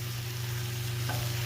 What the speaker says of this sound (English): We're gonna let that sizzle and burn up and get nice and crispy.